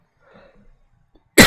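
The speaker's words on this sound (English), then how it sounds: "Still got a little bit of a cold. A little bit of a cough of the cold." A person with a cold lets out a sudden, loud cough right at the end, close to the microphone, after a stretch of near silence with faint murmuring.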